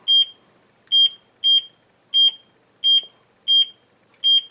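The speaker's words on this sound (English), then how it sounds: "It does have this annoying beep," A high electronic beep from an E300 smartwatch during a health measurement repeats seven times in a steady rhythm, loud and clear, each short tone followed by a brief gap of near silence.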